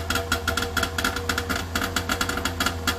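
Small DKW car engine running while warming up, a steady, fast, uneven two-stroke-style putter heard close with no talk.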